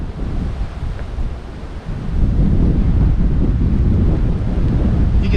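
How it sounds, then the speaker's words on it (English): Strong wind buffets the microphone atop Turtle Mound at Canaveral National Seashore, a loud, rumbling gusty roar that grows stronger partway through, with no talking. "Oh, it's windy up here."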